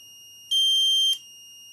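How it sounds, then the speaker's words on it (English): A low-cost clone of a Power Probe circuit tester sounds its buzzer, one shrill electronic tone lasting just over half a second, sharp and close, with a faint steady high whine before and after. "So let's just try the buzzer and see what happens."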